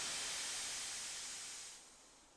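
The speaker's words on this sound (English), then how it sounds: "When he's sad, he lets out a slow whoosh of steam." A slow, soft whoosh of steam from Thomas the steam engine, a steady broad hiss that gently fades over a couple of seconds, heard alone without talk.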